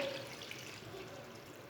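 Water pours steadily into a cooking pot holding overnight-soaked white chickpeas, a soft continuous splashing and trickling heard alone for under two seconds.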